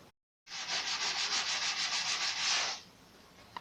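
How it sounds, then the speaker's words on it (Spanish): Steady rhythmic sanding of a wooden plug flush with the surface, close and continuous for a couple of seconds, strokes rubbing back and forth before stopping abruptly. "debes lijar para dejar al ras el tarugo que acabas de colocar"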